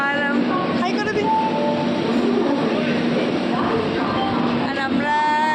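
Trains standing at Kharagpur railway station on Indian Railways: a loud, steady hum of idling locomotives and station bustle with faint tonal whines and clinks, under people talking nearby.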